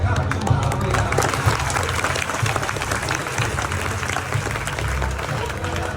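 Audience clapping and crowd noise at a Republic Day event with children's stick-twirling and mallakhamb displays, a steady dense patter of applause mixed with low crowd rumble and voices throughout.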